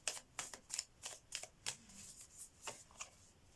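Oracle cards being shuffled by hand during a tarot reading, a series of crisp riffling bursts at a steady rhythm, close and fairly quiet, with no voices.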